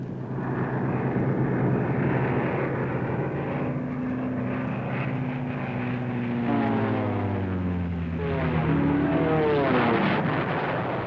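WWII P-38 Lightning fighter aircraft flying in: a loud, continuous droning engine roar whose pitch bends and shifts as the planes pass close by, with no talk over it.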